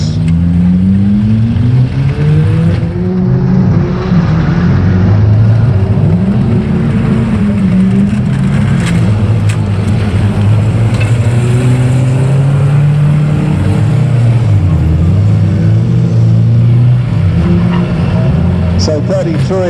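Race cars at Aldershot Raceway roar past in a loud, continuous stream, engines rising and falling as they speed around the track, with a commentator talking over the din.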